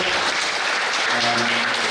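A school audience at a primary school graduation applauds to welcome a guest speaker, a dense steady burst of clapping with a voice briefly heard over it.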